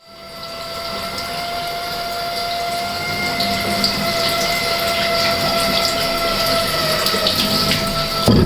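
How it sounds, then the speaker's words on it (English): Water runs steadily from a tap over a tile mold in a continuous rushing stream, with a faint mechanical hum beneath it and no talking. "So let's try to run some water over this and see what happens."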